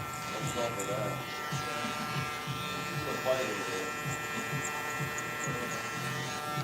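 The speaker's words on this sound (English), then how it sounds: "Love that clipper, y'all." Electric hair clippers buzz steadily through a haircut, a continuous mid-level hum running beneath casual talk from people nearby.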